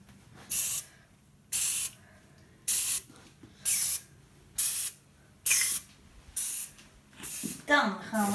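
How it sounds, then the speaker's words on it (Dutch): A can of baking spray greases a cake tin in eight sharp, close bursts of hissing spray at a steady rhythm, each about half a second long with short quiet gaps between them. "Ik ga nu de cakevorm invetten met deze bakspray."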